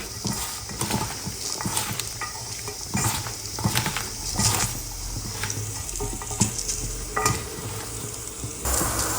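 Continuous wet stirring and squelching of a thick spiced mixture for crispy okra in a bowl, with irregular scraping strokes at a close, steady level.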